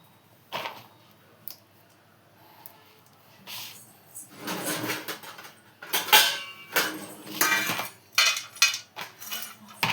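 Cashew nuts chopped into pieces on a kitchen surface, a scattered run of close knife taps and clinks that grows busier and louder toward the end, with quiet gaps between strikes.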